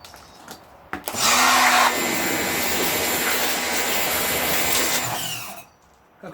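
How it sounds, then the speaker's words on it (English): A pressure washer sprays a foam-covered car, kicking in abruptly with a loud, steady hissing roar that runs for several seconds before cutting off, with no talk. "Let's give it a little bit of a spruce with the pressure washer"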